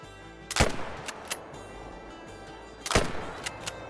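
A single sharp rifle shot at a mule deer buck during a hunt from a blind, a loud crack with a short echo, followed by quieter thumps, then a second loud report near the end against a quiet outdoor background.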